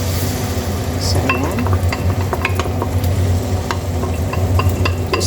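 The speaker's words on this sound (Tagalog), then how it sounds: "iluluto natin uli itong cabbage na to" Cabbage fries in a hot pan with a loud, continuous sizzle and frequent scraping stirs and light utensil clinks against the pan, close by.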